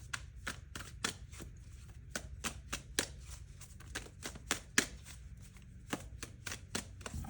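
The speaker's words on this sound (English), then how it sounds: "I'm being told to shuffle again." A tarot deck is shuffled by hand in a quiet room, each riffle or pass making a crisp papery snap. The snaps come in quick irregular bursts, close up and moderately loud, with no talk.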